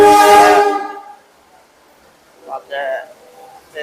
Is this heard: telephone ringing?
no